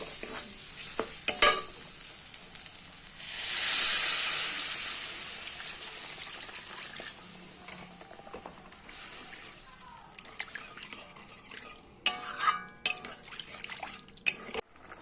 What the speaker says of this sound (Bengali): মশলা কষানো হয়ে গেছে, দিয়ে দিব জল।